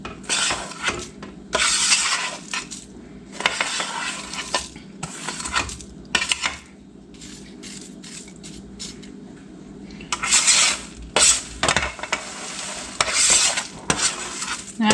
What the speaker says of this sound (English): we're going to put our Ritz crackers over top